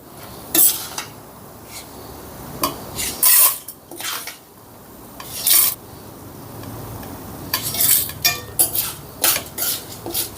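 A spoon scrapes and scoops fried lentils and spices out of a pan after the stove is switched off, giving intermittent metallic scraping strokes up close with short pauses between them.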